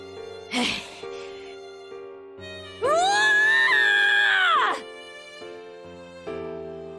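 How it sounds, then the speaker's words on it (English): A loud, strained animalistic scream of rage and despair from Carl Clover in the fighting game BlazBlue: Continuum Shift Extend, a sustained wavering cry of about two seconds, preceded and followed by brief game sounds and music. "Carl lets out an animalistic scream filled with rage and despair."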